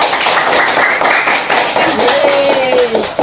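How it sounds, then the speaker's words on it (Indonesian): A group of students applauds a classmate group after their presentation in a classroom, with steady dense clapping throughout and voices talking over it. "Tepuk tangan untuk kelompok A."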